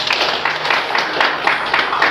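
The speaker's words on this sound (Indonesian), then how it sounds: "Tepuk tangan." Children clapping their hands in a quick, steady rhythm during a classroom ice-breaking activity, several evenly spaced claps in a row, close and clear.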